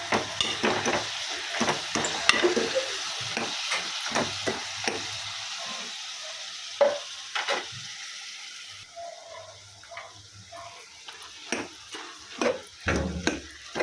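Sautéing with chili powder and salt in a pan: soft sizzling broken by frequent clinks and scrapes of a spoon stirring against the pan, near and fairly quiet.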